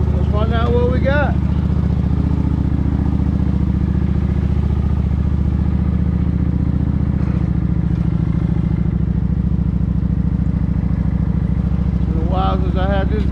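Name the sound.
motorcycle engine running while riding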